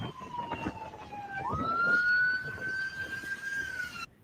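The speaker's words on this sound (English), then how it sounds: "ambulance coming." An ambulance siren approaching at a residential street corner during a house fire, one long rising wail that swells louder and holds near before cutting off abruptly.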